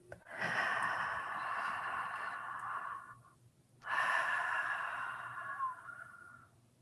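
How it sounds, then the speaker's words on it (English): Two long, deep breaths drawn in close and loud, each a steady airy rush lasting several seconds, separated by a brief pause, with no talk. "And now another deep breath in."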